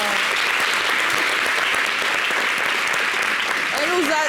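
Steady, dense audience applause in a concert setting, loud and continuous throughout, with a voice briefly audible near the end.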